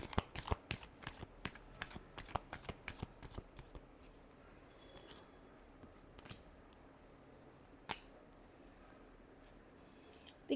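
Tarot cards shuffled by hand in a rapid run of crisp riffling snaps for about four seconds, then a quiet stretch broken by a few isolated card flicks and taps, no voices.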